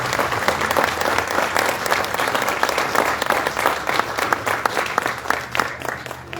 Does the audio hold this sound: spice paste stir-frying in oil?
no